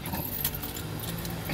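A bunch of keys jangles close up in a car, a short continuous metallic rattle with no talking.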